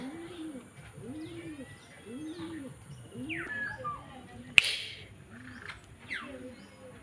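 Pigeons coo in a repeating, rolling rhythm close by, steady throughout, with faint chirps from other birds and one sharp click partway through.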